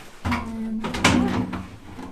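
A refrigerator's bottom freezer drawer being installed in a converted school bus slides and thuds, giving a close, rolling clatter with a sharper knock near the middle.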